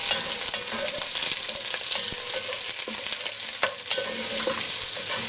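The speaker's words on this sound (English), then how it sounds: "We're going to give that a good stir." Lime leaves and purple onion crackle in hot oil, a close, steady sizzle with frequent clinks and scrapes of a spoon stirring the pan.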